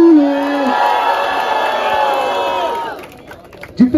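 A rap battle audience roars and shouts loudly in support of the MC Cleópatra, a dense, sustained wall of cheering and whoops that holds for about three seconds before dropping off sharply, followed by a few scattered voices.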